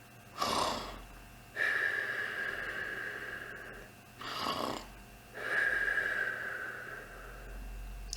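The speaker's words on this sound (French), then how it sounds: "Et là, il ronfla." A cat snores slowly and rhythmically close up, with raspy breaths and wheezy whistling tones in between, over a quiet background.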